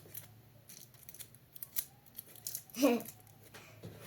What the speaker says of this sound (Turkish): Şimdi açıyorum kutu